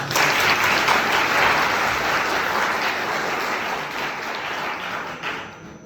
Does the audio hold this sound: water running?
no